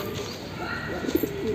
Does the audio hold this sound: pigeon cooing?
yes